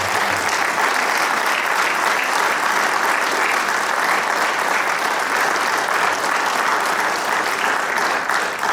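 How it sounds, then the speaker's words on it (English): An audience at a Masonic Grand Lodge candidates night applauds the candidates, dense sustained clapping that holds at an even, fairly loud level for several seconds. "I'll ask you to give a round of applause to all these brothers who put themselves in position"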